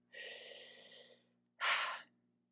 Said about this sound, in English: so let's just take a breath